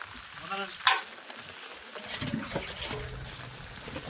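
Crab frying in a pan, a steady close sizzle with bursts of crackle and the scrape of stirring, fairly quiet throughout.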